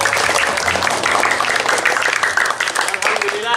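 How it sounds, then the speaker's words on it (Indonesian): Students in a physical education class clap together, a dense burst of applause mixed with voices that continues steadily throughout. "Tepuk tangan untuk kita semua"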